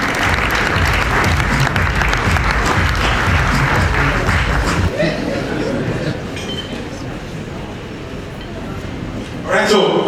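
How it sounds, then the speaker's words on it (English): Audience applause at a stage event at the Lagos International Theatre Festival, a dense sustained wash of clapping that thins out after a few seconds while a voice speaks over it through a PA. "Give him a round of applause."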